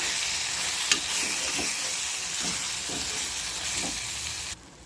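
Spice powder of chilli, salt and turmeric being stirred into a sizzling stuffed brinjal curry in a pan, a steady frying hiss with soft scraping strokes of the spoon every half second or so.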